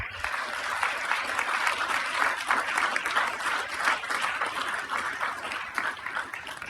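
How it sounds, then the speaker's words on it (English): Audience members at a Norwalk city council meeting clap together in a loud, sustained round of applause that stays thick and even throughout, with no voices standing out. "let's give them a loud round of applause, please"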